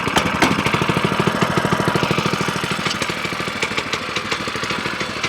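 Small gasoline engine on a Frontier OS18 portable sawmill running steadily close by, a loud, fast, even chugging pulse with a rattly mechanical edge, with no talk over it.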